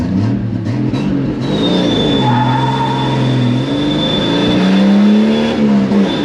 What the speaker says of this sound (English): A lot of wheel speed, a lot of spin.